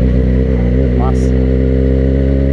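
A Yamaha XJ6 motorcycle engine running close by, a loud, steady mechanical drone that holds an even pitch throughout with only a slight flicker near the start.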